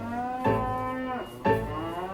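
Cattle on a Cornish dairy farm give two long, loud mooing calls close by, the second following about a second after the first ends, with no talk.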